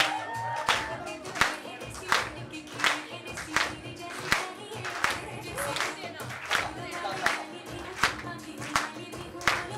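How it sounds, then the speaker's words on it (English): A small group at a film song promotion event claps together in a loose rhythmic beat, sharp hand claps repeating about every half second, with voices and chatter mixed underneath. "Can you all clap, please?"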